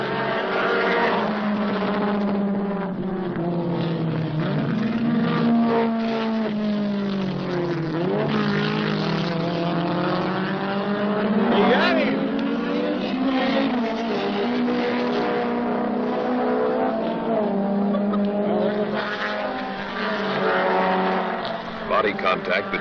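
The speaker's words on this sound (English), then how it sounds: "Queck pushed his Alfa to the limit, and sometimes a little beyond" An Alfa Romeo race car competing in the 1971 Trans Am at Laguna Seca, its engine note loud and close, climbing and dropping through gear changes as it is driven hard, with other cars sounding under it.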